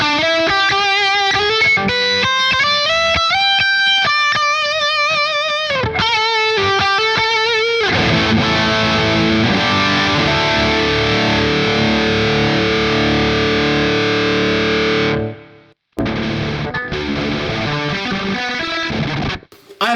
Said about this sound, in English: I love the lead sounds you can get from the